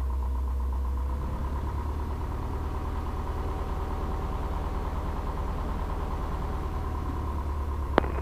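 An RV6 light aircraft's engine idles at low power while taxiing, a steady low droning hum heard from inside, with a brief sharp click near the end.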